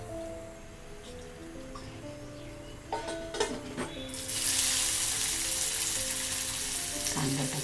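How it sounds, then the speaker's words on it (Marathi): Cumin and mustard seeds dropped into hot oil in a home kitchen pan break into a loud, sustained sizzle after a few clinks and clatters, crackling steadily to the end with no talking. "जिरं मोहरी टाकते."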